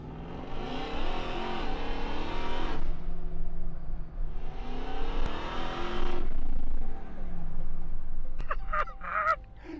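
Modified pickup truck with the exhaust routed out through the bed, engine revving hard in two long loud bursts separated by a brief drop, followed by scattered clicks and shouts.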